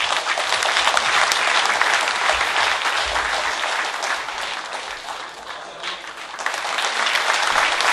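Sustained, dense applause fills the hall at a Korean union delegates' assembly, loud and continuous from a large crowd with no break.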